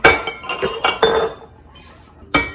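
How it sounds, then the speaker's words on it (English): Glass knocks and clinks several times in quick succession, then a pause and one more sharp clink, close and fairly loud. "Here's my glass container."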